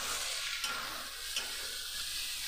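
Spices and eggplant fry softly in a pan, a faint continuous sizzle with a few light scraping stirs of a spatula, no voices.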